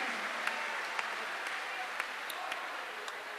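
A large crowd at the Maha Kumbh in Prayagraj applauds to welcome Sadhvi Devpriya, a distant, washy wash of clapping holding steady with a few sharper claps standing out.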